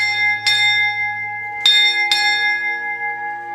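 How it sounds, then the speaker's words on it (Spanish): An old church bell struck three times, each stroke a bright metallic clang whose long ringing tone carries on and overlaps the next, with a low steady hum underneath. "Vamos a sonar esta campana."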